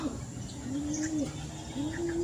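Soft, low racing pigeon coos repeat a few times close by, over a faint background hum.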